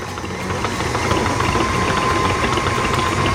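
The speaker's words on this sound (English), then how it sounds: "About number 4 on my KitchenAid, probably medium high on another mixer." KitchenAid stand mixer running steadily at speed 4, medium-high, beating a brown butter blondie batter; a constant close motor whir with a faint steady tone and no change in pitch.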